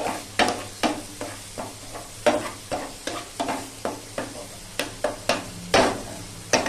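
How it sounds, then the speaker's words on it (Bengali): Spice masala being sautéed with a splash of hot water in a pan, with a steady sizzle broken by repeated sharp scraping strokes of a spatula at a quick, regular rhythm, close and clear. "অল্প পরিমাণে গরম জল দিয়ে আমি মশলা কষিয়ে নিচ্ছি।"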